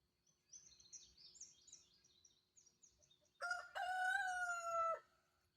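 Chickens in a chicken house: soft clucks and chirps scattered through the first half, then a rooster's loud close crow that stretches over a second and a half.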